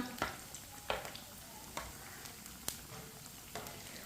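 Bread pakora frying in oil in a pan over a low flame: a soft, steady sizzle broken by brief spatula taps roughly every second, with no voices.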